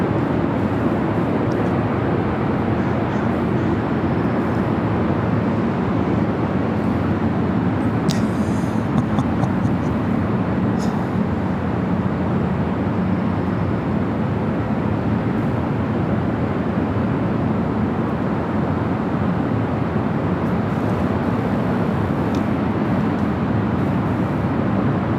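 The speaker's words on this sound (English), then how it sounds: "Emirates Flight 216 heading back to Dubai, A380 Super. Now pushing back for the gates of Tom Bradley." An Emirates A380 airliner pushes back from a gate at LAX, heard as a steady, broad turbine hum and rushing drone that holds evenly throughout, with faint brief clicks over the continuous noise.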